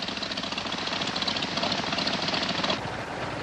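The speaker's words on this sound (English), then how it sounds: "I'm gonna leave the engine running" A small plane engine idles steadily nearby, a continuous rough, knocking drone with a slight change in tone near the end.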